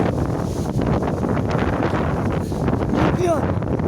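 Strong wind blows through trees in a storm, a continuous heavy roar with gusty buffeting against the microphone, while a brief voice cuts in near the end.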